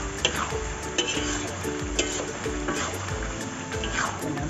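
Beef stirred and frying with fried shallots in a pan for a dark braised dish, with a steady low sizzle and repeated scraping stir strokes roughly once a second, close up, continuous through the clip.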